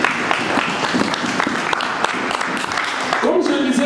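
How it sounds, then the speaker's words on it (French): A congregation at a church service applauds in a loud, continuous burst of clapping, and voices rise under it near the end. "Nous acclamons la parole de Dieu."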